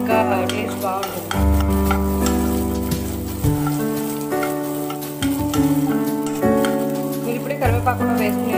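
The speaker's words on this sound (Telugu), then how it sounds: "ఆవాలు కొద్దిసేపు ఫ్రై అవ్వనివ్వాలి, అప్పుడు ఇంకా టేస్ట్ బాగుంటుంది" Mustard seeds fry in hot oil for a chutney, a crackling sizzle with stirring scrapes and clanks of a utensil against the pan, fairly loud and close, with music playing over it.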